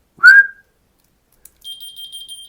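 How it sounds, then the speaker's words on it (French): A whistle-activated key finder keychain answers with a short, clear electronic beeping tone that sounds steadily for about a second after a single sharp whistle, with no talking. "c'est un porte-clés siffleur"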